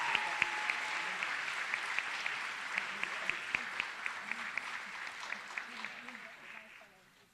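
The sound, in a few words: applause at school recognition night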